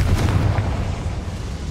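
A heavy, booming blast from the Confringo fire spell in Hogwarts Legacy, one dense low rumble that fills the short moment and slowly fades.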